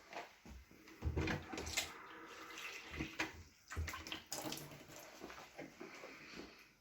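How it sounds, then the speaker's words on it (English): Warm water pouring into ingredients for Nigerian moi moi before grinding, a splashing gush close by with a few knocks and pauses, moderately loud and without speech. "I will put a little warm water inside before I will start to grind it."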